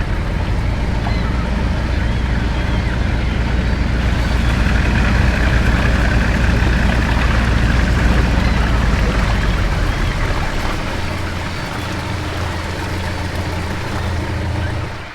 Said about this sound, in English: And there goes the boat.